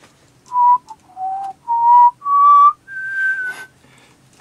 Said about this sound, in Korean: 오랜만에 휘파람 부르라고 하니까 뭐 신나긴 하네요